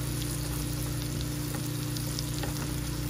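Butter sizzling and frying steadily in a hot pan with mushrooms and spinach, a constant close crackle with occasional stirring.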